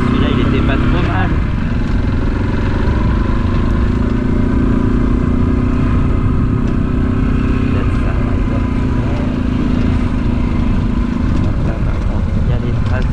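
Vehicle engine pulling away in first gear on a farm track, a steady loud rumbling drone that holds throughout without easing off.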